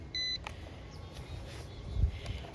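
A Ruko F11PRO 2 drone controller powering on gives a short, clean electronic beep, followed by faint handling clicks and a low thump in a quiet room.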